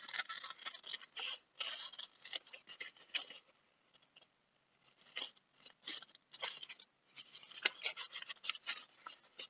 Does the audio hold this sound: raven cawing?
no